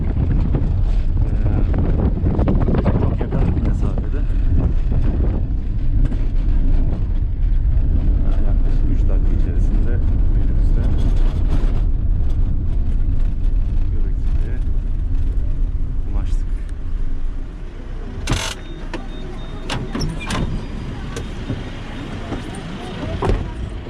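Interior rumble of a shuttle bus on its way to Göbekli Tepe near Urfa, a steady low engine and road drone with wind buffeting, continuous and fairly loud throughout.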